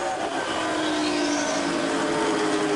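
Late model stock cars race around a track, a dense, loud roar of engines at full throttle with a rising and falling whine as the cars sweep past.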